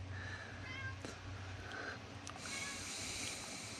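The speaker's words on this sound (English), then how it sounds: "I don't know if you guys can hear him in the background meowing," A cat meows several times in the background over a steady low hum, the calls drawn out and moderately faint.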